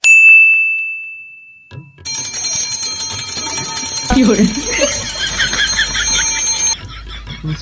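A bicycle bell gives one clear ding, then after a pause rings insistently and continuously for several seconds, loud and close, over street noise.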